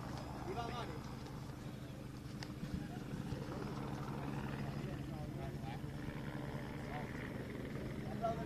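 Continuous chopping drone of a helicopter overhead at a rally stage, steady and fairly close, with someone talking over it.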